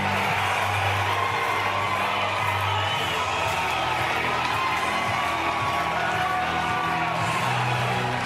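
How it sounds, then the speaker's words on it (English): A college football crowd roars steadily inside Memorial Stadium at Nebraska as the team enters for Oklahoma at Nebraska, a dense, continuous wash of cheering with no breaks. "Crowd"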